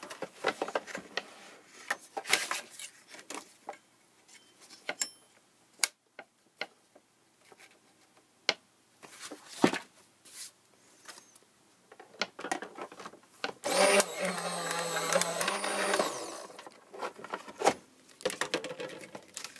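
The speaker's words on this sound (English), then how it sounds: "now I need to cut my thankful die, and I'm going to use this other kind of bright pink" Bright pink 65-pound cardstock being die cut: scattered taps and handling knocks, then a louder grinding roll of about two seconds as it passes through the cutting machine.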